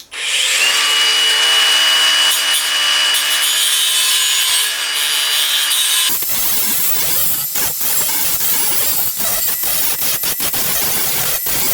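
A power saw trims material on a Ford Falcon, running loud and continuous for about six seconds before cutting out, followed by scattered clatter and handling noises.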